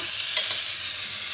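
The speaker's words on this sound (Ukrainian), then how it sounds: "Розігріваємо гарно дуже сковородку. І я кладу сюди шматочок масла" Steady, even frying sizzle of butter in a hot frying pan, with a bright hiss and faint crackles, close and continuous, no voices.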